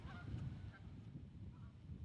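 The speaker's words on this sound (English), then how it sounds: "decoy geese on land and in the water mingle with real geese" Real geese honk among decoys on land and water, a few faint distant calls over a low murmur of outdoor background.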